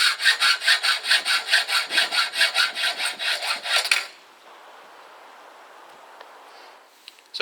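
A hand saw cuts through a wooden leg of a potting bench in an allotment garden, with about fifteen quick, even rasping strokes, close and loud, then stops, leaving quiet outdoor background.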